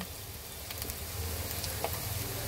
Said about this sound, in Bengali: পেঁয়াজটা দেখো হালকা কিন্তু মজে আসছে, ঠিক ওই সময়ে আমি দিয়ে দেব গাজর কুচি